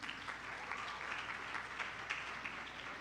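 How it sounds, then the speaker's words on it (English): Steady, faint applause from a graduation ceremony audience, many hands clapping continuously at a distance without pause or peak. "Let's give her a round of applause as she comes."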